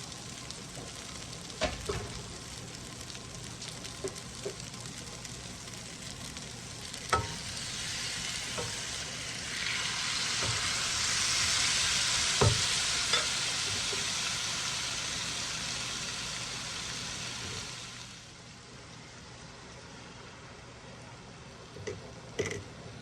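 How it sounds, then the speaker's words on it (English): A chicken and broccoli stir-fry sizzles in the pan as sauce is stirred through, with steady frying hiss, scattered utensil taps, and a louder burst of sizzle midway that fades back down. "Stir it around, make sure everything gets the sauce on it."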